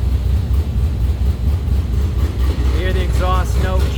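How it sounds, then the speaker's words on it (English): The exhaust of a Superlite Aero car rumbles with a deep, steady low throb once the bypass valve is opened for free flow, loud and close, with someone speaking over it toward the end. "exhaust note change. So that's completely free flow now."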